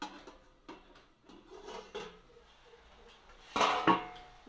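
A lid lifted off a cooking pot of simmering Malabar spinach (pui shaak) for lote fish shukto: a quiet stretch of faint kitchen noise, then a sudden loud metallic clatter and brief ringing near the end.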